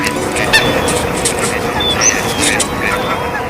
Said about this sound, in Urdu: یہ پرندے سائبیریا، چین، مشرقی یورپ اور فلپائن سے آ رہے ہیں